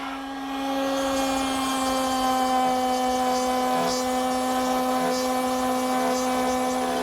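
A wood router fitted with a spiral bit plunge cuts through a workpiece while building a jewelry case, producing a loud, sustained high whine with a steady motor tone that holds unbroken for several seconds.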